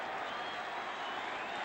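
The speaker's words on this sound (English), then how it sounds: "Delight for the Ayresome Park crowd." A football crowd at Ayresome Park roars and applauds after a goal in a 1977 match against Spurs, a dense continuous wash of cheering at a distance.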